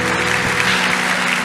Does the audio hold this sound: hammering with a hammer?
no